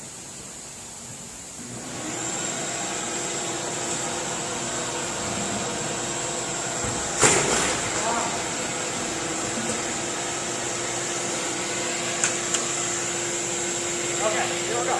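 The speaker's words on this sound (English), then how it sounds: "we're going to suck up all the dust in that bucket into the shop vac" A shop vac with a Oneida Dust Deputy cyclone collector roars steadily while sucking roughly four gallons of Corian solid surface dust from a bucket, with a loud continuous whine and occasional clunks.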